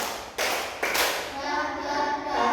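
Children in a Grade 4 classroom clap a short counted pattern, two bursts of claps standing out loudly, then a brighter jumble of voices and tapping that carries on close by.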